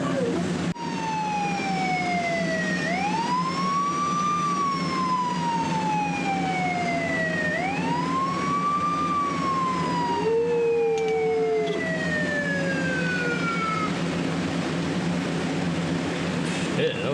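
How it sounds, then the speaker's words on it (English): Police sirens wail in long rising and falling sweeps for a dog, with a strong steady tone and a brief lower whoop near the middle, loud and continuous throughout. "You need to turn on some sirens and listen to him and record them."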